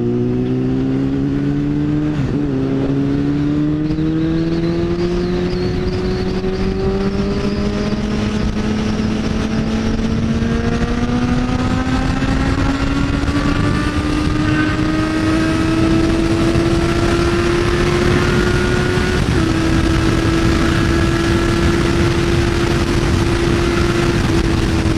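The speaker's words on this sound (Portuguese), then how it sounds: "Nem sei que motos são essas aí." Motorcycles and cars pass on the Bandeirantes highway, including a Suzuki Bandit 650N, as engines rise steadily in pitch and hold a loud, continuous drone close by for the whole stretch, with no talking.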